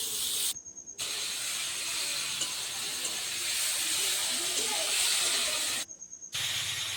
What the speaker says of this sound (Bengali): ফুলকপিগুলো ছেড়ে দিলাম। হলুদ লবণ দিয়ে নাড়াচাড়া দিয়ে ভেজে নিব।